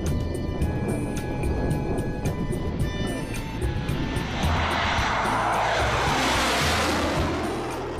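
A Russian Air Force military jet flies overhead and maneuvers, its engine a loud continuous roar that swells into a broad rushing surge partway through.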